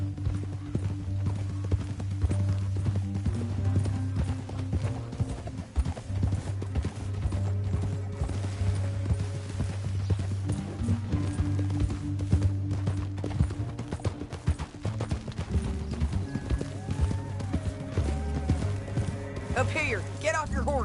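Horse hooves clip-clopping in Red Dead Redemption 2, a steady rhythmic patter running under continuous speech and a game soundtrack, with a brief neigh near the end.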